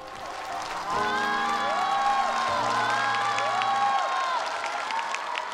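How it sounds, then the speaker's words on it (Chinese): An audience at a televised music competition stage show applauds and cheers loudly and steadily, with sustained musical tones running underneath. "我们大家给他掌声好不好？"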